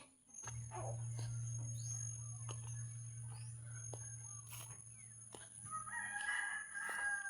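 A rooster crows repeatedly over a steady low hum, with chickens clucking and calling near the end, outdoors on a farm in Inabanga, Bohol among fruit trees; crickets buzz faintly in the background.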